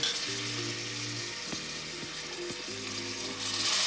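Soaked green peas dropped into hot spiced tempering oil for pulao, giving a steady broad sizzle with a few soft clinks of a utensil against the pan.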